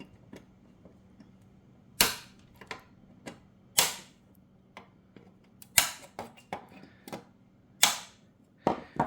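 Sharp snips of cutters clipping the protruding ends off hot plastic welding staples, a dozen or so crisp clicks spaced irregularly and heard close and alone over a faint background hum.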